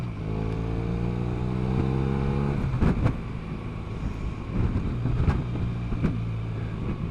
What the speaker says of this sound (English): I have got a Leo Vinci pipe on, and it gives you a bit of a pop and a bang and a crackle